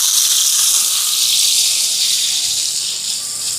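Onions and green chilies sizzling in hot oil in a pan, a steady, loud, bright hiss that holds evenly throughout with no voices.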